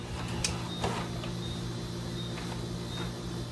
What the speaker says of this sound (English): And this printer produces dimensionally correct copies.